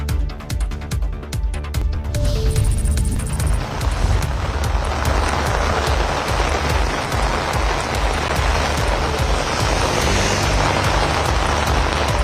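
Heavy monsoon rain pours down in Rameswaram, a loud, steady, dense hiss of water drumming on surfaces that builds after a few seconds and continues unbroken.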